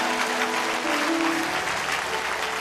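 A church congregation claps and cheers in a steady, dense wave of applause, fairly loud and continuous, with a faint sustained tone beneath it.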